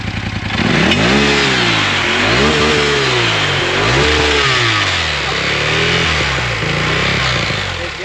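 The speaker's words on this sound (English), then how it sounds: "You can start it up and rev it up." A nearby engine revs repeatedly, rising and falling in pitch through several loud throttle bursts over a steady roar.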